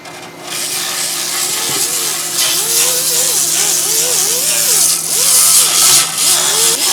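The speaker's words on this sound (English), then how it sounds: "Martin behind me is now grinding to create a nice flat surface for the Bondo to go onto." Power grinder flattening the surface of a 40-year-old fiberglass bathtub, a loud, continuous whirring grind with a steady motor whine and wavering pitch, heard at moderate distance with no clear speech.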